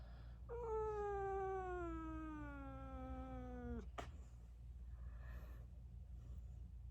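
A pet cat lets out one long, loud drawn-out meow that slides downward in pitch, followed by a short sharp snort, all close by in a quiet indoor room.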